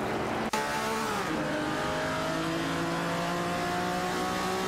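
Race cars in an AI-driven racing game, including a Pontiac and a Lamborghini 400 GT, engines droning loudly and climbing in pitch as they accelerate, layered whine of several cars at once after a brief click.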